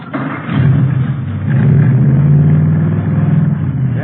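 A hot rod engine with Mallory ignition, milled heads and twin Wakefields, rated at 120 horsepower, cranks and catches, then settles into a loud, close, throbbing low rumble that pulses steadily through to the end.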